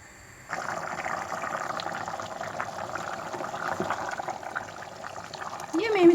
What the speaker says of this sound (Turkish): Kaynadıktan sonra altını kısıp patatesler yumuşayana kadar pişiriyoruz.